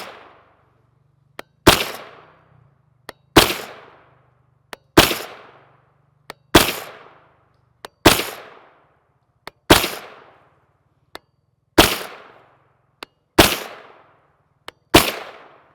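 A Palmetto State Armory AR-V9 blowback 9mm rifle firing 124-grain Geco FMJ rounds outdoors: about ten loud, sharp single shots at a steady pace roughly every one and a half seconds, each with a decaying echo.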